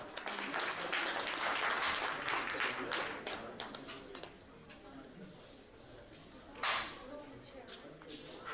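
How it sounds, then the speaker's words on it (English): A live audience applauds after a song performance at an international Indian diaspora conference, steady dense clapping that gradually thins and tapers, with a brief louder burst near the end and a voice faintly underneath. "Please give them a round of applause."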